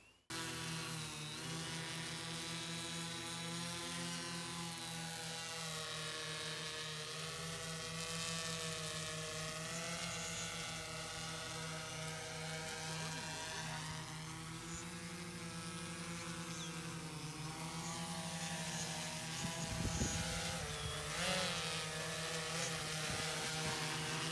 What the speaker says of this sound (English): Move both sticks inwards to arm the motors and throttle up. Now you can start flying.